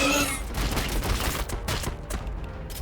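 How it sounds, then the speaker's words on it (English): Gunfire crackles in a dense volley as troops shoot at gaunts in the Battlesector strategy video game, with several sharp bursts over a rumbling battlefield, close and fairly loud. "Shoot the gaunts."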